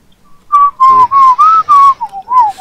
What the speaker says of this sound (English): Stop whistling, you're ruining the mood.